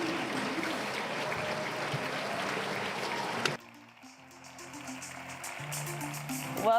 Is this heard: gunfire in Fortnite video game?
no